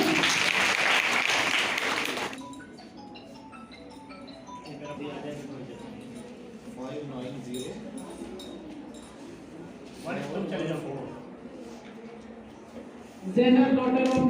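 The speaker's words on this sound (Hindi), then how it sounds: "तालियां बजाइए बच्चों।" Children clap in a brief burst at a school voice competition, loud at the start and again near the end, with speech in between.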